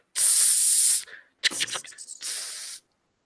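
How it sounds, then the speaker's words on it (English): A spray paint can hisses in two bursts, the first long and steady, then after a short gap some scuffing and a second burst, loud and close with no talk. "Spray paint."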